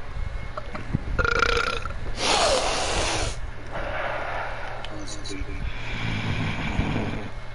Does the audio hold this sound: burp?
yes